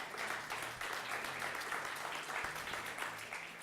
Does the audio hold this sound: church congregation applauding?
yes